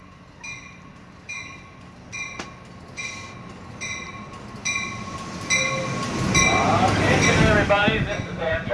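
Amtrak 784 passenger train running southbound toward San Diego, heard from inside with steady rail rumble, a repeating chime-like tone and a rising roar of wheels and motion, and a voice talking over it.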